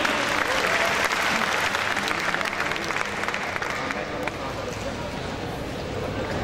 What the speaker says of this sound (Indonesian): bisa dong tepuk tangannya buat lebih semangat buat acara ini